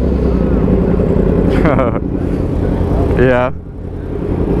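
Yamaha R6 and R1 motorcycles riding along, a loud steady engine drone with wind roar up close, as people talk briefly over the engines.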